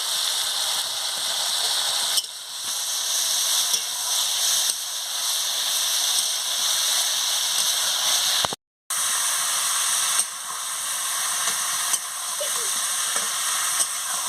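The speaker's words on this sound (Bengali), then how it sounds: "মশলাটাকে ভালো করে কষিয়ে নিচ্ছি পটল মাছ এর সঙ্গে ভালো করে কষিয়ে নেব" Spice paste frying in a pan with magur fish and pointed gourd, a steady close sizzle and hiss running throughout with faint stirring, broken by one brief silent gap.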